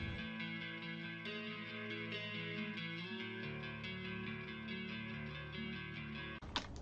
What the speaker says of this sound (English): We're going to be starting with a melancholic guitar melody that sounds like this.